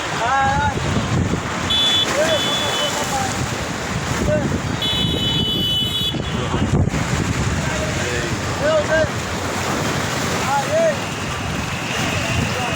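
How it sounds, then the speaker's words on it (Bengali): Ocean waves crash and wind blows steadily at the Chittagong sea beach, a constant loud roar of surf throughout, with people's voices talking faintly in the background. "এক একটা বিশাল বড় বড় ঢেউর কারণে মানুষ ঢেউ দেখতে আসে"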